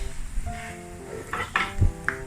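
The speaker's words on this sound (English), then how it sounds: "Deep fry the anchovies and keep stirring" Anchovies deep frying in hot oil with a steady crackle, plus occasional clinks and scrapes of a utensil stirring in the pan.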